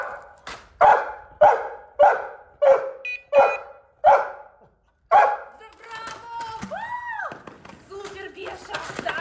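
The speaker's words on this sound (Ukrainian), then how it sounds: "молоді собаки Мара та Бафі, 7- і 8 бельгійські вівчарки" Belgian shepherd search-and-rescue dogs in training bark in a steady run of about eight loud, evenly spaced barks close by, followed by a pause and then a voice speaking over background noise.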